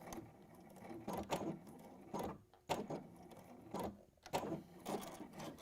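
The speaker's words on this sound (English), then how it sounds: "when I go forwards and back to secure that stitch, I'm doing that over the edge of that cork" A sewing machine stitches forwards and back over the edge of a cork piece, with bursts of quiet whirring and rapid needle chatter separated by short pauses.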